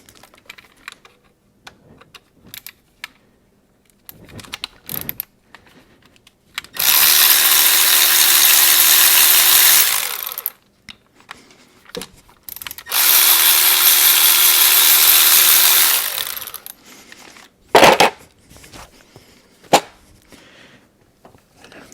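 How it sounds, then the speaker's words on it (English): A power tool drives out the T30 bolts holding the ignition coil on a GM Ecotec 1.4L turbocharged engine in two loud, sustained whirring bursts of about three seconds each, between quieter clicks and handling taps. "Next, we're going to take off these T30s that are holding the ignition coil."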